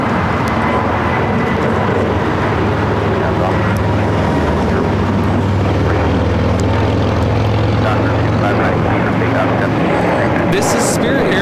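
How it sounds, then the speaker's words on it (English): A Spirit Airlines A320neo bound for Kansas City takes off at LAX, its engines a loud, steady roar filling the whole stretch, with people talking over it. "This is Spirit Airlines 627 taking off to Kansas City on the A320neo"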